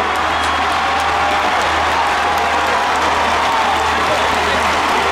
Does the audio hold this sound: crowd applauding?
yes